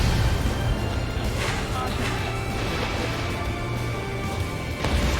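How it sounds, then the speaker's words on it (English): Missile striking a target in the Ace Combat 7 flight game, pipeline destruction mission: a dense, continuous roar of explosions and crashing debris with heavy low rumble, loud and sustained, a sharp burst near the end. "Missile hit."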